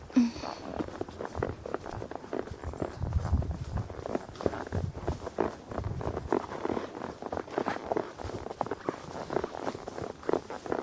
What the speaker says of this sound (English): My horse is getting a little agitated.